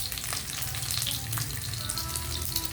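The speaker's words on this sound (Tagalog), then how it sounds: "Piniprito na natin." Pork chops frying in a pan for a home lunch, giving a steady close hiss of sizzling oil with a few brief crackles and pops, no voices.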